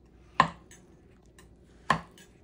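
A knife cuts fruit directly on a plate, giving two sharp, close clacks spaced about a second and a half apart in an otherwise quiet room.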